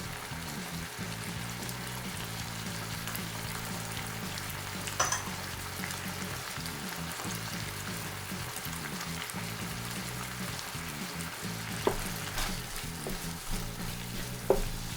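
Mince cooks with chili powder in a pan for taco rice, a steady moderate sizzle carrying a low rhythmic hum, with occasional clicks and scrapes of stirring and no speech.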